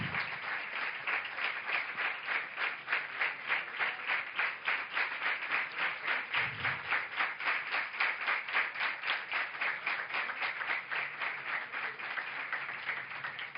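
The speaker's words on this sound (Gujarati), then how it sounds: "એકવાર જોરદાર તાળીઓના નાદથી એમને વધાવીએ." A seated audience at a Hindu religious discourse claps together in a fast, even, sustained round of applause, dense rhythmic hand claps at moderate distance with no voices over them.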